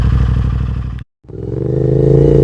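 A CFmoto 450MT motorcycle with a 450 cc engine pulls away loud and close, its engine droning, cutting out briefly, then rising again as it rides off.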